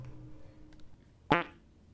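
A comic fart sound effect in a video game, one short, buzzy, loud blurt standing out against a quiet background.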